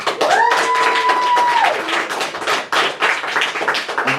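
Audience at a comedy show clapping sparsely and politely for a comedian, a few scattered hand claps with a short whistle-like tone early on, fairly close and loud, with crowd murmur throughout.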